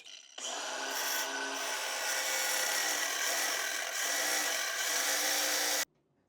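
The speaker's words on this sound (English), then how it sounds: "So 2 minutes later with the grinder, we've managed to just cut them off" An angle grinder cuts through corroded exhaust bolts on a fire-damaged Yamaha R6, a loud continuous abrasive grinding that starts abruptly and runs steadily for about five seconds before cutting off.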